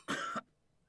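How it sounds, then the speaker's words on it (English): A single short, harsh cough, close and distinct, followed by quiet. "his coughing slowed, then subsided entirely."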